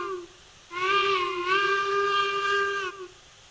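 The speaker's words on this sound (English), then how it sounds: "Weird whistle for a weird engine." An odd-sounding steam engine whistle in Railroads Online sounds a single sustained multi-tone blast of roughly two seconds, with a slight dip in pitch partway through, clear over faint background hiss.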